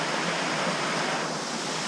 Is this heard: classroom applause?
no